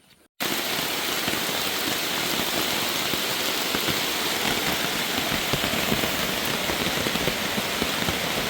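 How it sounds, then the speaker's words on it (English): Steady, dense rain pours down on the Appalachian Trail during a 2024 thru-hike, a loud continuous hiss and patter that starts abruptly and carries on alone without a break. "it is a welcome rain."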